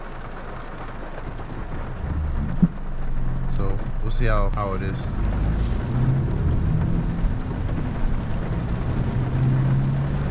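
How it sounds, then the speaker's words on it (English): Rain drums steadily on a Honda Civic Si driving at night, a constant broadband hiss with low road rumble throughout, and someone talks briefly over it. "Yeah, it's raining"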